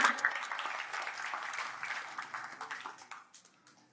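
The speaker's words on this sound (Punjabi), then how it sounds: "ਤਾੜੀਆਂ ਮਾਰ ਕੇ ਇੱਕ ਵਾਰੀ ਦੱਸ ਦਿਓ" A crowd at a Punjabi political rally, where Mrs Maan is speaking, breaks into applause that starts fairly loud and fades over a few seconds, heard from a distance.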